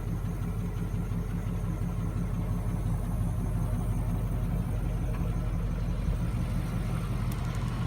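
A 1996 Chevrolet Impala SS fitted with a one-chamber Flowmaster muffler idles with a deep, steady exhaust burble, a continuous close low rumble with no voices.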